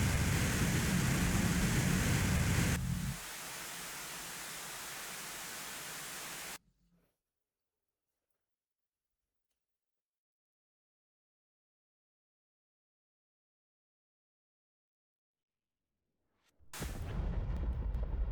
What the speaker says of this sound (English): Let's see what this missile does.